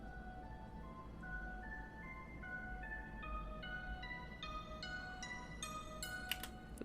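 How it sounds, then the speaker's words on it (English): An EDM synth melody plays steadily while an equalizer filter gradually opens, the tone growing brighter and thinner as high frequencies are let through, faint and alone. "So as this opens up, you'll be able to hear more and more of the high frequencies."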